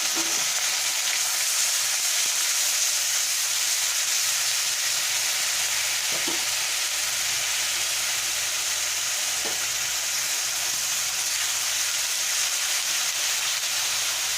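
Sliced onion fries in oil with cloves, cinnamon and bay leaves, giving a continuous, even hiss of sizzling that stays steady and close, with occasional faint clicks.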